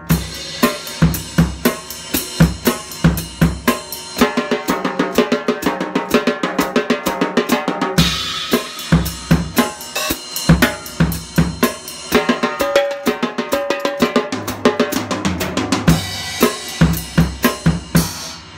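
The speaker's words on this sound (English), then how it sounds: "you could try to go from eighth note triplets, groups of threes to groups of twos" Drum kit playing a two-bar fill that moves from eighth-note triplets in groups of three to groups of two, a loud, close, continuous run of rapid strikes with cymbal crashes.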